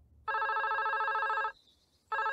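A cartoon telephone bell rings in the animated series Ben and Holly's Little Kingdom, with one long electronic trill followed by a short pause and the start of a second ring, loud and clear with no talk.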